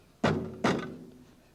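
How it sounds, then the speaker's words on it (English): Two quick dull thunks about half a second apart as a stopper is pushed into a flask during a classroom atmospheric pressure demonstration, close and fairly clear, with no voices. "I am going to stopper this up."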